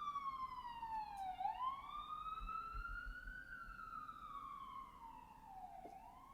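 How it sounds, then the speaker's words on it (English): A wailing emergency siren outside, rising and falling in long slow sweeps that carry clearly at moderate distance over a faint low background rumble, with no talking. "Hang on, I gotta wait for another siren."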